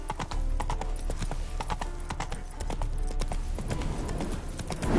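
Horse hooves clip-clop in the game The Witcher 3: Wild Hunt, a close, steady rhythmic gait of sharp hoof strikes over a low rumbling background.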